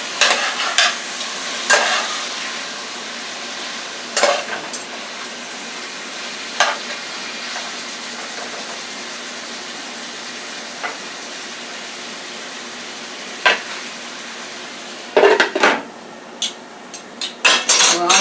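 Garlic steak with peppers and onions sizzles steadily in a hot pan after being turned, with scattered scrapes and clinks of a utensil against the pan; no talking.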